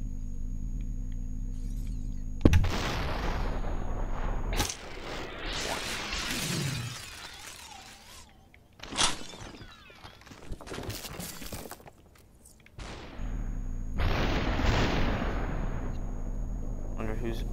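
Shotgun blasts in the Superhot video game ring out as loud, sharp bursts with shattering and whooshing effects between them, mixed with steady game sound and occasional talk.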